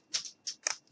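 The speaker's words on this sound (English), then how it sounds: "now I'm going to take my scissors and just cut off some of the little piece that's sticking out" Three quick close snips of scissors cutting decorative mesh for a wreath, crisp and evenly spaced, alone in a quiet room.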